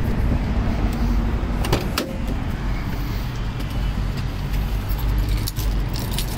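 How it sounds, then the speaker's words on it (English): A large bunch of keys on a keychain jangles in brief metallic bursts near a parked Subaru Sambar kei truck, with a steady low background hum underneath. "I have a lot of keys in this keychain."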